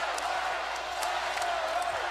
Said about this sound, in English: And a Let's Go Herd chant is broken out here at the Civic Center.